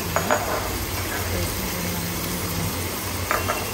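Chicken biryani masala mixed with yogurt sizzles steadily in a pot while being stirred, with a few utensil clinks near the start and end.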